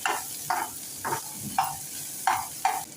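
Chopped curry leaves sautéed in a pan with softened tomato for a millet upma, giving short bursts of sizzling stirring that recur about every half second to second, close and moderately loud, with no talking.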